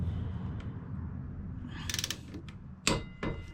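A torque wrench tightens caliper mounting bolts on the rear brake of a 2001 Kawasaki Vulcan Nomad 1500cc motorcycle, making a short run of metallic ratchet clicks followed by a couple of sharper snaps over a low background hum.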